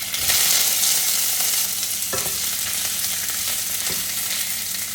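Drumstick pods are tossed and stirred in a hot-oil tempering of mustard seeds and curry leaves. A strong, continuous frying hiss is heard close up, broken by a few scraping stir clunks and no voices.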